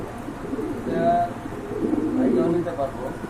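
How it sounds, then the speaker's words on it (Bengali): Pair of pigeons cooing at a pigeon market stall, soft repeated coos mixed with other birds and nearby voices talking over them. "বন্ধুরা আরেক জোড়া কবুতর দেখতে পাচ্ছেন"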